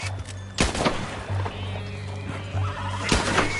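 A horse in Red Dead Redemption 2 gives short whinnies and snorts, with a few sharp thuds and a low steady drone underneath, loud and close.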